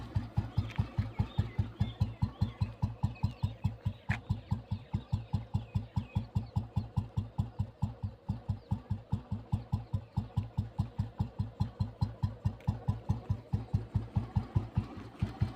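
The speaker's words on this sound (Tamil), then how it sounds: "வண்டி பீட் சவுண்ட் கேளுங்க ஃப்ரெண்ட்ஸ்" An old Royal Enfield Bullet motorcycle engine idles steadily with an even, thumping beat, each pulse distinct and regular, close and continuous with no talking.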